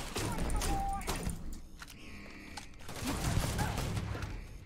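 Bursts of gunfire from an accurate gun in Starfield crackle in rapid volleys, separated by a short lull with mechanical clicks, all fairly quiet under faint voice-like sounds.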